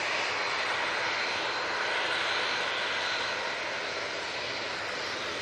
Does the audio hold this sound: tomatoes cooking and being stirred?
no